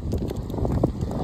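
Strong wind gusts buffet the microphone outdoors in Dawson Creek, Canada, a steady loud rushing roar with no talk over it.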